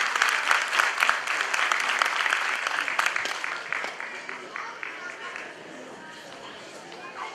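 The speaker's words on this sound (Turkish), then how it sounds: "Onu da alkışlarla buraya alalım." A crowd at a public speaking competition applauds as the second-place finisher is called up to receive his medal. The clapping is loud and dense at first, then thins and fades over several seconds while voices murmur underneath.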